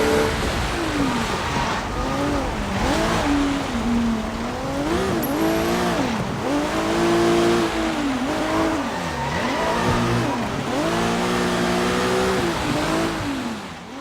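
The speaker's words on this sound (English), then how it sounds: "So you can take over the car, knock out the driver, which leaves Calvin in the trunk" A car in the open-world game Sleeping Dogs drives and revs steadily, its engine pitch rising and falling in repeated sweeps, loud and continuous throughout with no talk.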